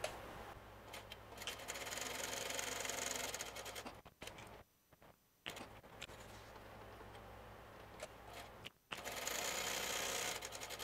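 A sewing machine runs in steady buzzing stretches as it stitches a DIY traveler's notebook, stopping briefly twice in the middle for repositioning before starting again, close and moderately quiet.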